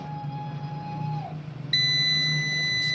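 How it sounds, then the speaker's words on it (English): A VM III 5KW inverter under repair gives a steady electronic tone at power-up that shifts to a higher, louder beep partway through, over a low background hum. "the beep sound we have."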